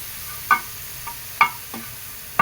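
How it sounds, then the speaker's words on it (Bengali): Shrimp being dry-fried in a pan with no oil: faint low sizzle broken by a few sharp scrapes and clinks of stirring, spaced unevenly, with no voices. "চিংড়ি মাছ ভেজে নিচ্ছি শুকনা খোলাতে"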